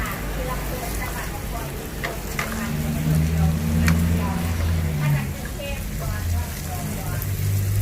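Pad Thai noodles stir-fry in a hot pan with added water, giving a steady loud sizzle and hiss, a scrape of the spatula now and then, and someone speaking over the cooking.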